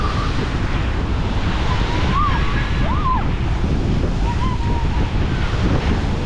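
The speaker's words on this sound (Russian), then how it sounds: "Самое такое место, где волны действительно очень сильно разбиваются об бетоны" Storm waves crash against concrete on the sea shore at Divnomorskoye, a loud, continuous roar of surf and wind lasting several seconds, with faint whistling tones drifting through it.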